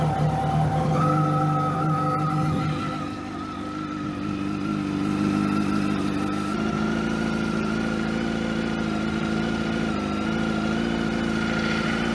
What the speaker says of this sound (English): the next step is pull the bike out and start her up